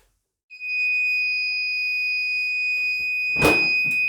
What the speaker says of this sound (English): Beeps when ready.